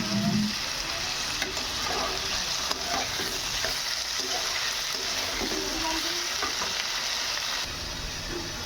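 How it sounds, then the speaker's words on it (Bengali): Potato pieces frying in oil in a wok, a loud continuous sizzle with occasional stirring scrapes and clinks, close and steady for the whole stretch, no talk. "আলুগুলো তেলে দিয়ে ভালো করে একটু ভেজে নেব"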